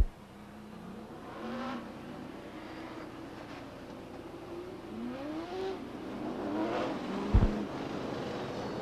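Pro stock race cars at Beech Ridge Motor Speedway roaring off at the start of a nine-car ACT Pro Stock Tour heat, engines rising and falling in pitch as they pass at a distance, with a sharp knock near the end.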